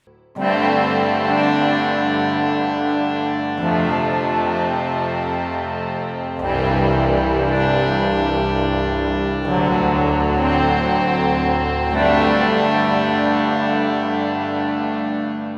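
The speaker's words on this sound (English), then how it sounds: "that little harmonium behind me has been able to achieve this full range of sounds" A sustained, organ-like tone from a harmonium with heavy effects and reverb, holding thick chords that shift every few seconds, loud and continuous.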